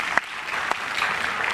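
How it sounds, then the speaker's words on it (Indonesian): Studio audience applauding a barongsai lion dance team on a TV talk show, a steady dense wash of clapping with a couple of sharper claps standing out. "Sekali lagi tepuk tangan untuk tim barongsai Kong Ha Hong asal Jakarta"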